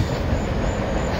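A Norfolk Southern train rolls past nearby as a loud, steady rumble of railcars with wheel noise, heard alone.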